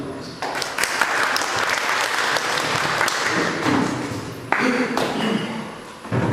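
Applause from an audience at an inauguration ceremony, a sustained, dense burst of clapping that holds steady throughout, with a brief surge near the end.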